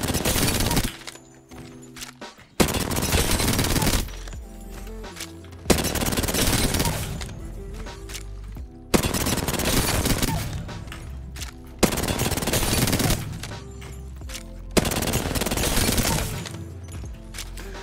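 Automatic weapon gunfire in the Apex Legends firing range video game, loud sustained bursts of rapid shots lasting a few seconds each, separated by brief gaps for reloads and movement, with no talking.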